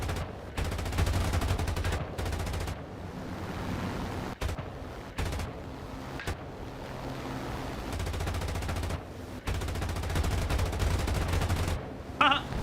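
Aircraft gunners in the game War Thunder fire machine guns in long, dense, rattling bursts broken by brief pauses, loud and close throughout, with no talk.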